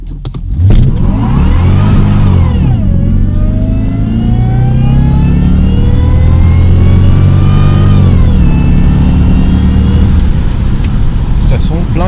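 A Jaguar S-type R engine is revved hard at full throttle, a loud sustained roar whose pitch sweeps up, dips, then climbs again across a long pull, close by and continuous with no talking.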